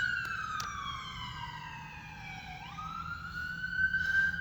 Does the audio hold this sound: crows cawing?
no